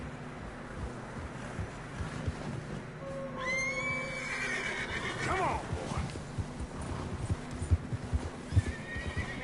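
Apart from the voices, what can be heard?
horses neighing in a video game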